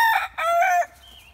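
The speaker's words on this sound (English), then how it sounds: "Here we have Phantom the rooster" A rooster crows once, close and loud, a short two-part call that cuts off quickly into quiet.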